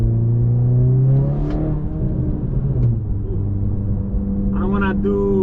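An 11th-gen Honda Civic Si with an RV6 Retro FK8 flywheel and Exedy Stage 0 clutch, its engine droning with a steady tone, easing off, then rising again in a short gentle pull, heard from inside.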